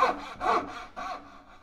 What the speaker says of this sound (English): to follow the curve, all I've got to do is to gradually rotate the wrist while we're sawing